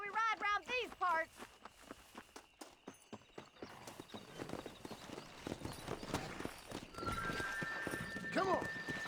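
Horse hoofbeats from Red Dead Redemption, a quick clatter of clip-clop steps building into a steady riding rhythm, joined by a whinny near the start and game music and voices around it.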